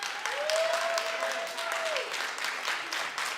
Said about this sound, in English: folks, if we could please temper down the applause.